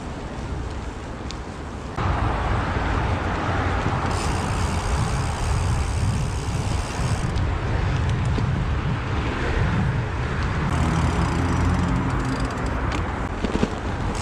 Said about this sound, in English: Very busy traffic on the A470.